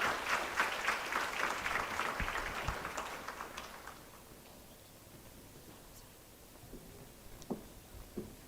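An audience at a design education anniversary event applauds to welcome a guest architect, with a dense wash of clapping that fades away after a few seconds, leaving a few scattered claps and quiet room noise.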